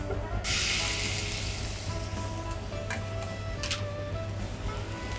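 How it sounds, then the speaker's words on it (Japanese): Red wine poured into a hot frying pan coated with browned meat juices for a beef stew hisses into a steady, bright sizzle that starts abruptly and carries on evenly at moderate loudness. "フライパンについた肉のうまみを洗うような感じで赤ワインを加えます"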